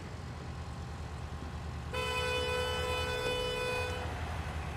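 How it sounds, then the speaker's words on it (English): Truck horn in the Roadcraft video game sounds one long, loud, steady blast lasting about two seconds over a low rumbling engine idle. "Oh, don't honk at me."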